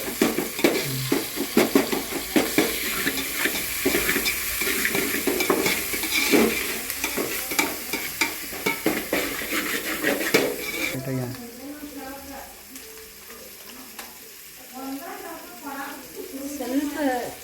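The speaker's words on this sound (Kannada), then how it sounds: "ಜಿಂಜರ್ ಗಾರ್ಲಿಕ್ ಪೇಸ್ಟ್ ಹಾಕೊಂಡು ಅದರ ಫುಲ್ ಸ್ಮೆಲ್ ಹೋಗೋವರೆಗೂ ಫ್ರೈ ಮಾಡಬೇಕು." Ginger garlic paste fries and sizzles in a pan while a utensil scrapes and stirs with repeated clinks, and a voice speaks over the cooking throughout.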